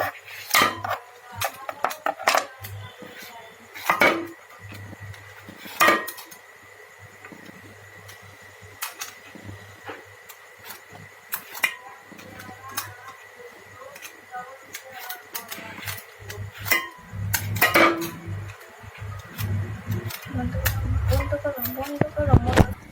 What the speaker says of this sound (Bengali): এদিকে দেখেন চাকু দিয়ে মাংস কাটা শুরু হয়ে গেছে, সাইজ করছে মাংস